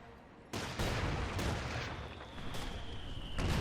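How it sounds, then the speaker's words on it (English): Company of Heroes 2 battle with a Pershing tank's 90mm gun and mortar rounds landing, heavy booming impacts over a dense rumble of battlefield noise, with several sharp blasts and a sustained loud din. "Mortar fire there landing down, Pershing fire."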